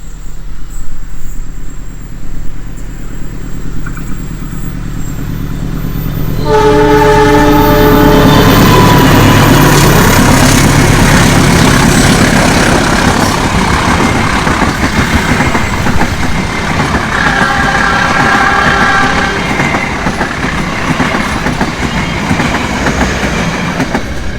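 A train crossing on rails near the Cisomang bridge, arriving loud and close after a quieter stretch, with squealing wheels and a steady clickety-clack that fill the rest of the clip.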